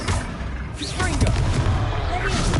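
A Confringo blast spell explodes during combat in Hogwarts Legacy, a fiery burst with booming impact and crackling spell effects, amid in-game voices.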